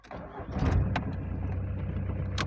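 A Volkswagen Passat B3 engine cranks briefly and catches, then settles into a steady close idle.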